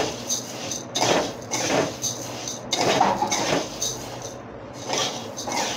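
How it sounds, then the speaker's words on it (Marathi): Coriander seeds are dry roasted in a pan over low heat, tossed and stirred in rhythmic rattling, scraping sweeps that swell and fade every second or so, close and without talk. "बारीक गॅसवर धने असे लालसर भाजून घ्यायचं आहे"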